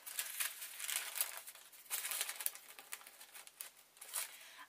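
Scissors snip through fabric along a coat hanger outline, giving close, crisp cutting and rustling in short irregular bursts with no talk.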